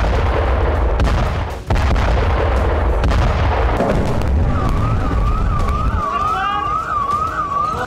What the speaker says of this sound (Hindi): बटन दबाते ही जोरदार धमाका होता है।